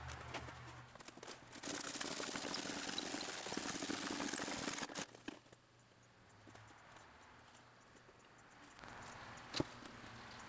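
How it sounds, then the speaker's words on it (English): Petrobond casting sand is rammed with a simple stick, giving a dense run of dull, muffled thuds and scraping. It is loud for the first half, then drops to quieter, sparser knocks. "Here I am compacting the Petrobond sand with a simple stick."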